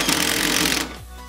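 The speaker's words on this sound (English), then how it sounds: "Now we're gonna take this step drill bit." A step drill bit bores through the metal body of a Toyota FJ80 for a snorkel install, a loud, steady grinding whir that runs for most of a second before dropping off into quieter spin-down.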